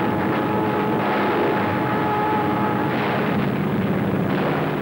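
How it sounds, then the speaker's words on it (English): Warplanes take off from an aircraft carrier on a WWII combat mission, a steady loud engine roar that fills the whole stretch without a break. "The planes take off on a daring battle mission to blast Jap bases"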